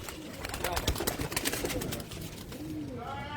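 A pigeon keeper's pigeons in Lahore coo in low, repeated calls amid a busy loft, with clattering noises and a voice murmuring faintly in the background.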